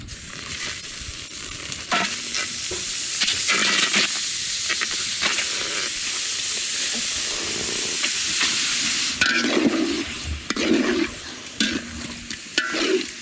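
Pork frying in a giant wok over an open fire at a village boodle-fight cook-up in the Philippines, a steady loud sizzle and hiss with stirring scrapes and clatter growing choppier toward the end.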